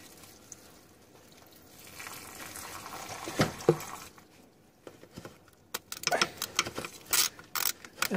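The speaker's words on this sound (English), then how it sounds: "And now water is coming out everywhere." Coolant water pours and splashes out of an Austin Metro engine, a quiet trickling patter that grows into irregular spattering drips and splashes toward the end.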